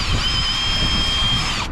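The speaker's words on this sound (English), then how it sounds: "I'm gonna drill a little bit to mount it." A power drill whines steadily at close range, boring a small mounting hole for a bass knob inside a 2018-2022 Honda Accord, then stops abruptly.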